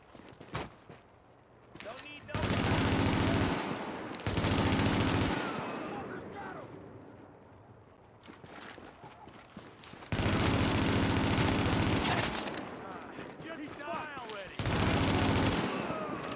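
Bursts of automatic gunfire in the video game Tom Clancy's The Division, loud and sustained volleys separated by quieter stretches, with a voice talking at times.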